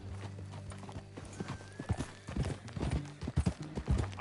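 Horse hooves clip-clop in a steady trotting rhythm during a ride in the video game Red Dead Redemption 2, with a brief whinny and game music beneath, fairly close and growing busier toward the end.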